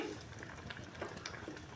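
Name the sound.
curry boiling in a pot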